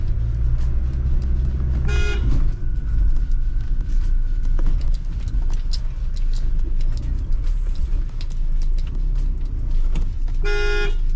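Mahindra Scorpio S10 SUV pulling away in first gear through narrow village streets, a steady loud engine rumble with road noise throughout and two short horn toots near the start and end.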